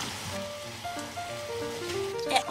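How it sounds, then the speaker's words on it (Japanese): Okra simmers in a pot of salted water, a steady soft bubbling hiss with faint, close popping throughout. "はい、塩茹でしていきます。"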